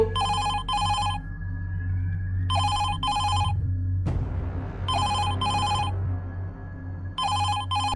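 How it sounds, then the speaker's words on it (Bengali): A telephone ringing on a desk in a police station, sounding in repeated paired electronic bursts with short gaps, clear and close against a low background hum, with a brief thump midway. "হঠাৎই থানার টেবিলে রাখা টেলিফোনটি বেজে উঠল"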